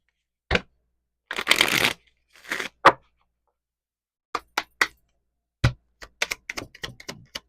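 Deck of oracle-style soulmate cards shuffled by hand: sharp riffling bursts and quick clicking taps, close and clear against silence.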